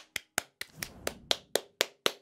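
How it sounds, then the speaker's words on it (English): Nine sharp hand claps in a steady, slightly uneven rhythm, close and distinct, with a faint rustle between them. "Let's have a little round of applause for the players that have just left us."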